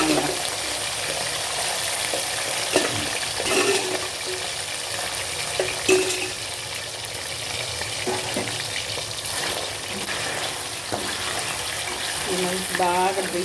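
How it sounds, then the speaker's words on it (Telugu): Prawns deep frying in a pan, a dense continuous sizzle and bubbling with occasional stirring clinks and scrapes throughout, fairly loud and close. "మంచి బాగా డీప్ ఫ్రై చేసుకోవాలి."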